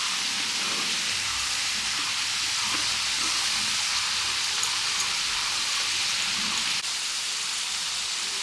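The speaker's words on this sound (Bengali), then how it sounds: "বন্ধুরা এখন আলুটা ভাজা ভাজা হয়ে গেছে" Fried potatoes with turmeric powder in a pan, giving a dense, steady sizzle like rain throughout, close and even, with no talk.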